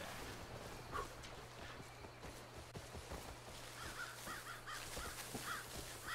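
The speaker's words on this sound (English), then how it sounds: "Bird." Crow caws from the video game Far Cry 5, a few harsh calls at moderate distance over a steady game ambience with a low hum and occasional soft footstep-like thuds.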